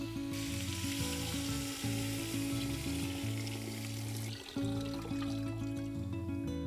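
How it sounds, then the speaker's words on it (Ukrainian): Water poured into a pot of well-browned onions for Ukrainian borscht broth sets off loud, continuous sizzling and bubbling close up, with no voices. "Цибуля вже гарно підрум'янилась, тож відправляємо до неї воду і даємо бульйону варитися."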